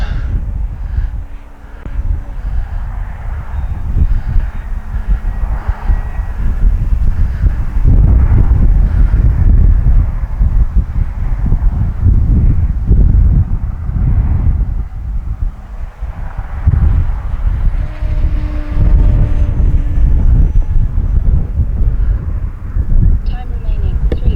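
Strong gusty wind roars against the microphone, swelling and easing in waves over a long stretch, with faint talk at times, at a field while flying an E-flite Carbon Z T-28 radio-controlled plane.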